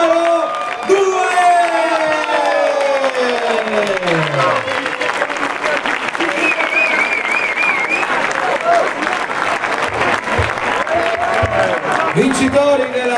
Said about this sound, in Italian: un applauso caloroso alla squadra numero 2